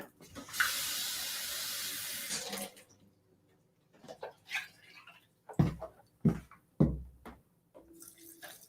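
A cup of water pours into a blender or bowl with raw vegan mashed cauliflower-style ingredients and garlic, a loud rushing splash for about two seconds, followed by quieter clinks and knocks.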